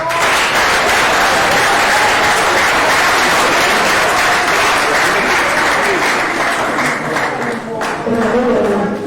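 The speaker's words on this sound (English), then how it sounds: "Guys, can we just give them a round of applause?" An audience at an HIV awareness panel event gives departing panelists a long, loud round of applause, sustained and steady throughout with a few voices mixed into the clapping.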